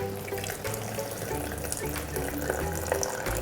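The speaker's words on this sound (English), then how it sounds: "you can pour in some warm to hot water" Warm water pours steadily into a blender holding shredded paper pulp, a continuous splashing gush at close range with no talking.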